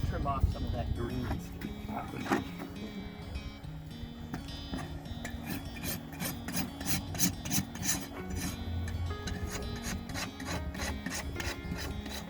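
Steady rasping strokes of a farrier's rasp across a horse's hoof being trimmed, a scraping rhythm running throughout under intermittent nearby voices.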